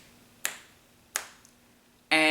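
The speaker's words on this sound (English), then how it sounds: "he's snapping his fingers." Three crisp finger snaps in a quiet room, spaced unevenly, each a sharp click with a short decay, the last running into a louder burst of sound.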